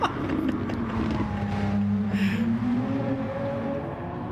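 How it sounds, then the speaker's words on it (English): A Renault GT3 race car drives on track during a heat event, its engine a sustained loud drone with shifting, rising and falling pitch, close and continuous throughout. "I've never seen the Renault GT3 car."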